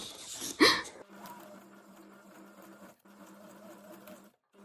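A sewing machine stitches a leaf-shaped embroidery outline on a junk journal pocket, running steadily at close range after a brief sharp start, with a faint hum and rapid needle rhythm.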